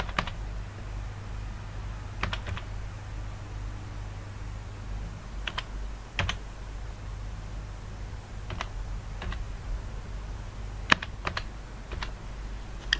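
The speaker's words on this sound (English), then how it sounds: "what I want to do now is type my BVN here" Intermittent keystrokes on a computer keyboard as a bank verification number is entered into an online tax registration portal, sparse clicks in short clusters over a steady low hum, no voices.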